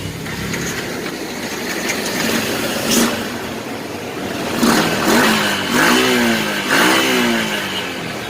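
A Yamaha Jupiter MX motorcycle with a 6-speed gearbox cranks on its electric starter and fires up. The engine idles close by, then gives a few quick rising revs in the last seconds.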